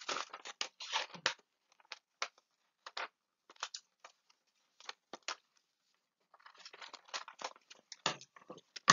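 Scissors snipping out a hand-drawn paper pattern, a series of short crisp cuts in uneven bursts with brief pauses between, close and fairly quiet, with no talking.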